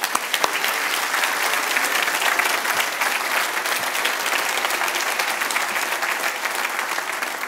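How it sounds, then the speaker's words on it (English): A conference audience applauds trade stand exhibitors, a sustained dense clapping from a sizeable crowd in a hall, steady throughout with no speech. "Please give these guys a round of applause."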